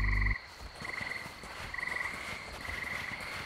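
Frogs croak in a marshy area of the survival video game Miscreated, a steady chorus with repeated trilling calls under faint ambient hiss, after a brief loud thump at the start.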